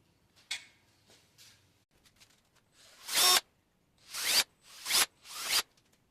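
A drill works on a Holden 253 V8 engine block in four short, loud whirring bursts, preceded by quieter scraping and handling noises.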